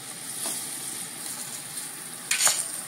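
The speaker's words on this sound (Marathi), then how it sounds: "बघा, छान तळली गेली आहे मिरची, फोडणी तयार आहे" Green chilies sizzle and spit in hot oil as a tempering is fried in a kadhai, a steady close crackle with a couple of sharper pops near the end.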